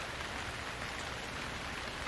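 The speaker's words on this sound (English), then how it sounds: "It's a heavy rain" Heavy rain pours steadily in a dense, continuous hiss, close and loud, with no voices or breaks.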